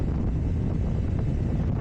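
Crosswind buffeting while riding a Kawasaki Ninja 500 motorcycle on the road, a continuous loud low rumble of wind against the microphone with no voices.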